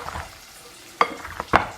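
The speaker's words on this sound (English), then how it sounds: "give that another stir" Ham carbonara sauce is stirred in a pan, with a faint background sizzle and a couple of sharp scrapes and taps of the utensil against the pan, no voices.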